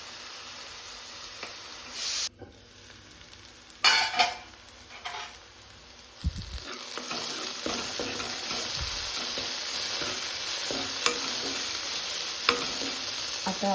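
Chopped onion and tomato fry with salt in a pan, sizzling steadily while a spoon scrapes and stirs in bursts, with occasional clinks, over about fourteen seconds.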